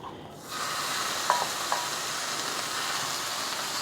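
Ground pork sears in hot avocado oil in a pan, a loud, even sizzle that swells in after a quieter start, with a couple of faint clicks on top.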